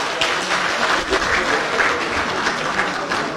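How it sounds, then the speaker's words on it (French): Audience applause for an interior minister addressing event organizers at a 2023 Hadji gathering, a continuous dense patter of clapping from a crowd, fairly loud and even for a few seconds. "Dans ce cas, on applaudit."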